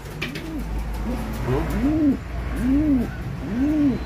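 Racing pigeons in a loft give repeated soft, rolling coos, several cooing phrases rising and falling in a steady rhythm, close and moderately loud over a faint background hum.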